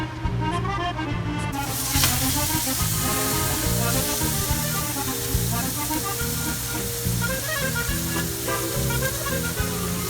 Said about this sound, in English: We need to hear the sizzle